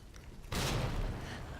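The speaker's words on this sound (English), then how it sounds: "we're just going to do something unconventional and just throw a grenade at him" A grenade thrown at a zombie explodes in a video game featuring Claire: a single sudden, loud, full-bodied blast that hits hard and then rumbles on and slowly fades, with no talk over it.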